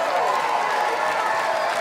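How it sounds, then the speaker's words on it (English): A church congregation at a night revival service claps and shouts together, a continuous dense wash of clapping and cheering voices with no pauses. "go ahead and let them hear your hand clap and shout"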